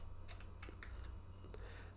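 Soft, faint clicks of a computer keyboard tap out in short irregular bursts as JavaScript code is typed, a quiet close-up clatter over a low steady hum.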